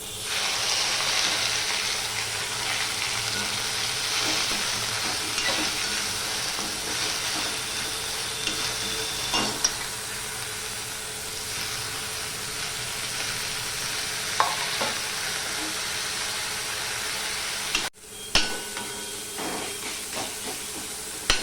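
Drumstick leaves frying with garlic and turmeric in a pan make a steady, close sizzle and hiss, with occasional stirring scrapes and a brief break near the end.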